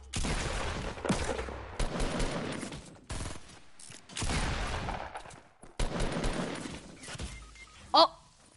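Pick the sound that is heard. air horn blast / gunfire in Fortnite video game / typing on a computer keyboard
gunfire in Fortnite video game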